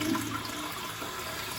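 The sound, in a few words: toilet flush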